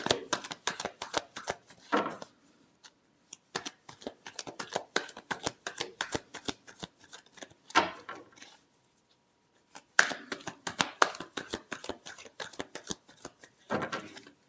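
A deck of tarot cards is shuffled with rapid clicking riffles in several bursts and short pauses between them, heard close and moderately loud with no talking.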